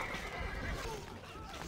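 A horse in the Stronghold Crusader strategy game lets out a loud whinny that tapers off, set against busy game background noise with faint hoof clatter.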